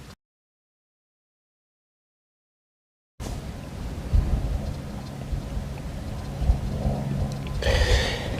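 Wind buffets a microphone in an open field during UK metal detecting, a loud continuous low rumble with gusty bursts that starts after about three seconds of silence.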